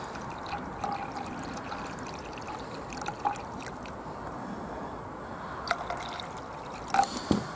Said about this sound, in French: là j'ai l'eau qui coule par le petit trou qui est tout au bout